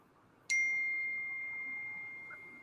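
A phone notification sounds a single bright, clear ding that rings out and slowly decays over a couple of seconds against a quiet room background, with no talking.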